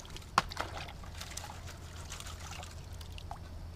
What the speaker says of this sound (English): We'll just stick it in the water and wash it out.